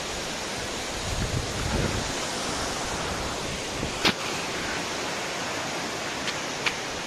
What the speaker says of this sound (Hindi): ये रहा छंगे वाटरफॉल ऊपर और भी ज्यादा है